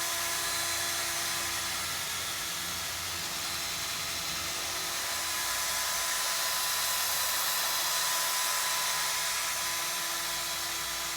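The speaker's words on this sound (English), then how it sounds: "put your sandpaper on this, and just go up and down" Sandpaper rubs up and down along a wooden chair spindle in a steady, continuous, loud hiss that holds without break and is broad and airy, with no talking.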